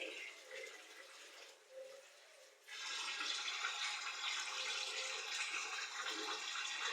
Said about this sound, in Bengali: আমি সামান্য পানি অ্যাড করতেছি।